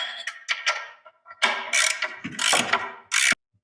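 Ratchet tightening bolts on a 1979 Camaro transmission with a Muncie 4-speed, close bursts of sharp clicking in short irregular strokes separated by brief pauses.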